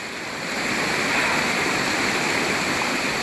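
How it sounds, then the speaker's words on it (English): Heavy rain pouring down outdoors during gold prospecting in overgrown terrain, a steady, loud, broadband hiss filling the scene with no voices. "Pouring down rain on us."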